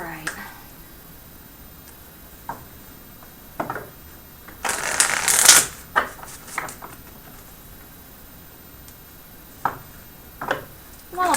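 Tarot cards are shuffled in brief rustling bursts, one longer riffle in the middle, with quiet gaps between the handling sounds.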